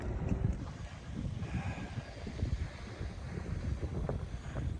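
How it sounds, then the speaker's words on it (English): Steady wind buffeting the microphone at the Mount Pleasant Tesla Supercharger, a continuous low rumbling rush with no pause and no talk. "Still got a good wind cooking, which I'm sure you can hear."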